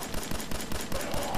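Continuous rapid automatic fire from an unlimited-ammo weapon in Fallout 4 on PS4, evenly spaced shots in a loud, unbroken stream.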